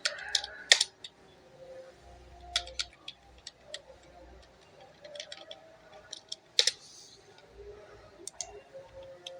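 Typing on a computer keyboard, a scatter of light, close key clicks in short bursts with pauses between, quiet overall.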